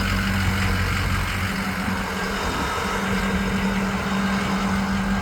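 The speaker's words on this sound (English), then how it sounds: "just so you can hear the exhaust as well" A Ford F-250 truck idles with a loud, steady low rumble from its exhaust, heard close up and continuous without a break.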